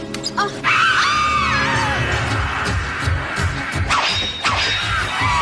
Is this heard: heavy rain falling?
no